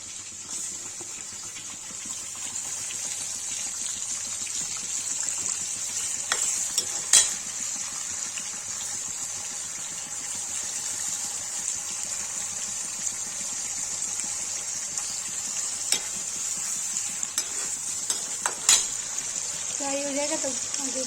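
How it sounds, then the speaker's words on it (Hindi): Potatoes and paneer fry in a pan for an aloo paneer curry, a steady high sizzle throughout, broken by a few sharp clinks and scrapes as the pieces are stirred. "पनीर फ्राई करने जा रही हूँ। थोड़े से फ्राई हो गए हैं।"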